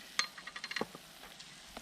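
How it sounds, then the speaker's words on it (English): Faint crackling sizzle of cream in a hot pan while camping at Lake Lenthall, with a few scattered pops and ticks over a quiet background. "So that's just sizzling off there."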